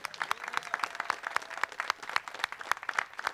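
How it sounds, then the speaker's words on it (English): A short round of applause at a workforce education press conference, with quick, sharp claps from a small crowd, moderately loud and continuous with no voices. "And can we just give Irakli another round of applause?"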